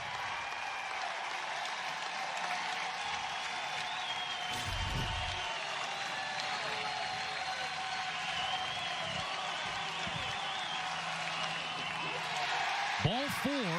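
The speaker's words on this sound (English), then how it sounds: "And this crowd has woke up" Crowd at a college baseball stadium during the Big 12 championship game between West Virginia and Oklahoma, a steady broad roar of cheering and applause that builds under a commentator's voice for over ten seconds.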